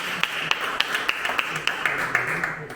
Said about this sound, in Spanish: Démosle fuertes palmas al Señor de la gloria